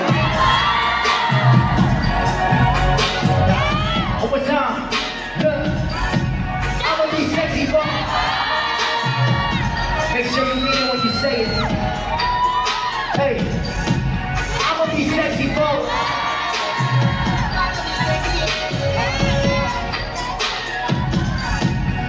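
A large concert crowd in Manila sings along loudly and cheers continuously, dense and roaring throughout with shouts and whoops rising over the mass of voices and music.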